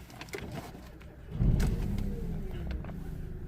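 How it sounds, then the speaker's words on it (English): A Renault Twingo 1.0 with its engine warning light on starts up nearby: quiet cabin sounds, then the engine catches at about a second and a half and settles into a steady low idle. "So I'm gonna start the car"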